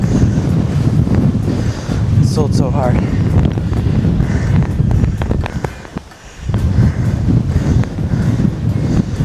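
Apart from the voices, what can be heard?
strong wind blowing against the microphone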